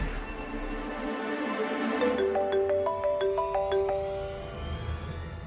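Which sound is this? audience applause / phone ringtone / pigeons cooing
phone ringtone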